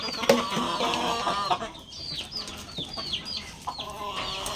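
Backyard hens cluck and chatter close by in a loose, irregular run of short calls, with a few sharper squawks, and no talk over them.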